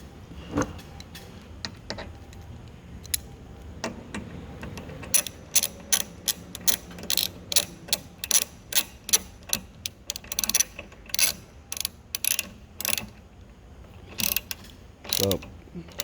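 Spin bike left crank bolt being threaded and tightened: a long run of sharp metallic ratchet clicks, sparse at first, then quick regular bursts, close and fairly loud with no talking.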